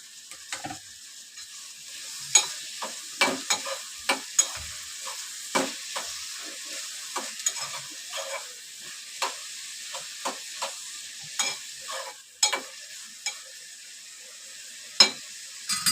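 Chopped tomato frying in a pan for egg bhurji, with a steady soft sizzle and repeated scraping clicks of a spatula stirring the mixture, close and fairly quiet.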